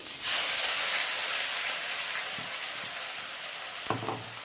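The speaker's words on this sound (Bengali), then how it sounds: "আদা পেঁয়াজ টমেটো রসুন বেটে রেখেছি, এইটা এতে দিয়ে দেবো" Sizzling and frying of a ground paste of ginger, onion, tomato and garlic added to hot oil, a steady loud hiss with a few faint stirring knocks near the end.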